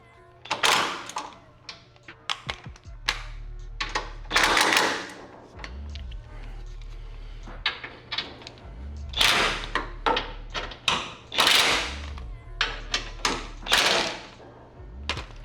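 Impact wrench tightening bolts on a Grimmspeed front bash bar, short loud rattling bursts of hammering repeated in clusters, with clicks and clanks between them, close by.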